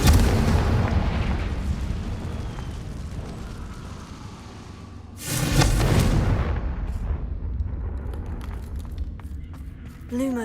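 Confringo blasting spell explosion in Hogwarts Legacy on PS5 Pro: a sudden loud burst midway through, rumbling and crackling as it fades, over a continuous background of in-game ambience.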